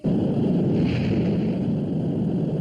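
A rocket's first stage separates in space, heard as a loud, continuous roaring rumble that holds steady throughout, with no talking.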